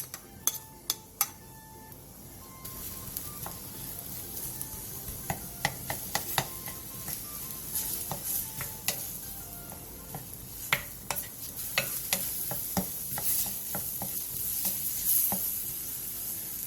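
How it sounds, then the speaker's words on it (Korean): Onion and minced garlic stir-frying in sesame oil in a pot over medium-low heat: a soft continuous sizzle with sharp clicks and scrapes of a utensil against the pot, close and fairly quiet. "냄비에 참기름 2, 다진 마늘 1, 양파를 넣고 양파가 투명해질 때까지 중약불에서"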